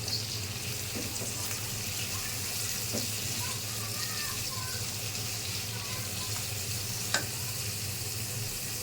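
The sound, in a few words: potatoes frying in a pan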